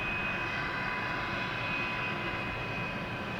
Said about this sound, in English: 737-800 flight 2393 to IAH Houston, 787 miles this morning.